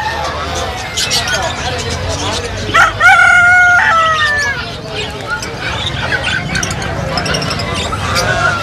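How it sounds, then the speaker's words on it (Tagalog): Native chickens at a pet market, with a rooster crowing loudly once mid-clip and clucking over a busy background of crowd babble and people talking nearby. "Yung mga manok na to, mga native"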